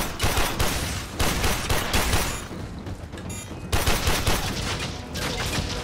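Gunfire in the video game Warframe: dense bursts of rapid shots and fusillades, loud and close, in repeated clusters with brief gaps between them.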